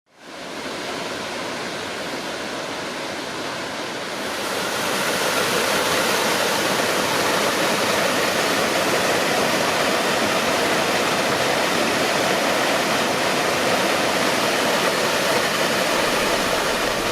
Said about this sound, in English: This is Rifle Falls State Park, which features the beautiful Rifle Falls.